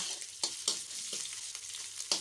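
Thai curry paste with garlic, fingerroot, lemongrass and kaffir lime peel is stir-fried in a pan, making a soft, steady sizzle broken by a few brief spatula scrapes, quiet and close, with no voices.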